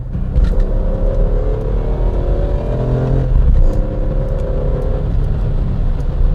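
A BMW M3 E46 accelerating hard in shift mode 4, its engine loud and close with a steady roar whose pitch climbs through the pull, then dips briefly and rises again.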